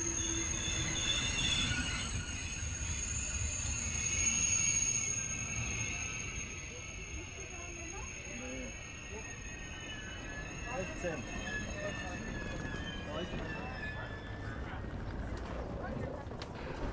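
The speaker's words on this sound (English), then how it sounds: "this here is my train coming in that will take me to Frankfurt in Germany" A high-speed TGV train rolls into a station in Marseille, France with a low rumble and high metallic wheel squeals, while people talk nearby.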